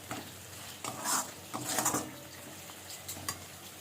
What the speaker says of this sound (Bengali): দেখো টমেটোটা কেটে আমি দিয়ে দিলাম আমি একটু নেড়ে নেবো